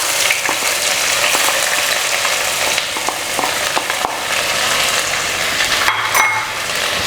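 Onion and urad dal fry in a hot pan for a restaurant-style chicken thoran, giving a loud, steady close-up sizzle with scattered crackles and brief stirring scrapes throughout.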